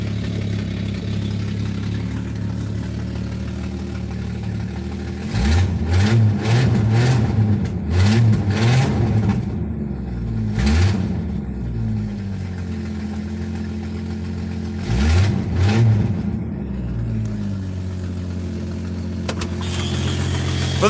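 A 1970s car in Urban Survival cranks and starts, then its engine revs in several bursts over a steady low idle, loud and close, with no one talking.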